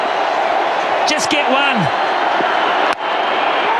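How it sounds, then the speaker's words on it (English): A cricket crowd cheers loudly throughout as McCullum races toward his century in record time, a steady wall of roaring noise with whoops and whistles rising above it and a commentator talking over the top. "The crowd's going nuts here"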